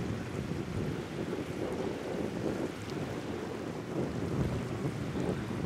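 Wind buffets the microphone over gentle lapping water in the small harbour of Marseillan, France, a steady rushing noise with soft wave sounds and no voices.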